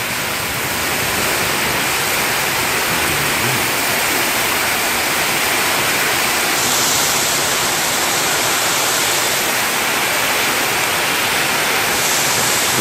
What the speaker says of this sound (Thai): เดินไปดูอีกมุมหนึ่งชมบรรยากาศฝนตก